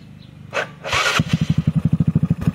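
Yamazuki motorcycle fitted with an M35 carburetor, started up close: a starter whir and a short burst, then the engine catches and settles into a fast, loud, even idle putter.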